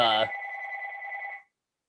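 A telephone rings with a bright electronic trill for about a second and then stops, heard right after a brief burst of a voice speaking at the start.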